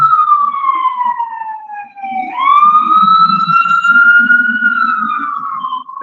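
An emergency vehicle siren wails loudly on an outdoor street, its tone sliding down, then jumping back up and holding a long rising wail as it passes close by, with a low rumble of traffic beneath.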